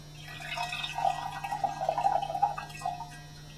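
Taiwanese Dong Ding oolong tea poured from a teapot into a pitcher: a steady, fairly quiet liquid stream with light splashing and dripping for a few seconds, with no voices.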